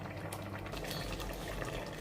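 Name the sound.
fish broth simmering in a pot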